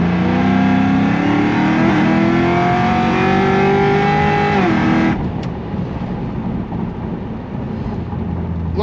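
An 850HP Cadillac CTS-V pulls hard from inside, its engine note climbing steadily through third gear, then dropping sharply at the shift into fourth before building again, loud and continuous.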